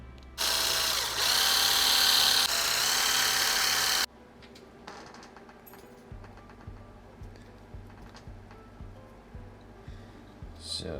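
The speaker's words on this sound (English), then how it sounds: "we'll take our smallest drill bit, and then we're just going to drill a hole as much down the center" A power drill with a small bit bores a hole down the center of a glide bait fishing lure body, whirring loudly for a few seconds in one continuous burst, then stops, followed by quiet clicks and small handling noises.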